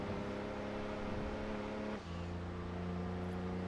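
A Fiat 500 in Gran Turismo 2 holds a steady, buzzy engine drone, then shifts gear with a brief dip before settling at a lower, steady pitch, close and continuous.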